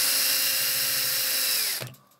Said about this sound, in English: move the drill around in a circular motion.